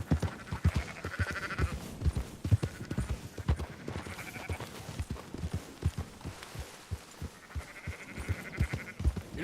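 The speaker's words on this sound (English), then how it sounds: "Marston, why don't you leave the sheep to me?" Sheep being rounded up on a ranch in a video game bleat intermittently, a few wavering calls over steady horse hoof clip-clops and ambient outdoor noise, moderately distant.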